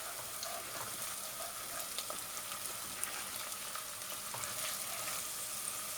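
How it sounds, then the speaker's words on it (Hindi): Ginger garlic paste and three kinds of chilies fry with onions in a pan, making a faint, steady sizzle dotted with small crackles and pops, heard alone without speech. "अब इसमें ये जिंजर और गार्लिक पेस्ट जो है 1 टीस्पून डालेंगे भर के"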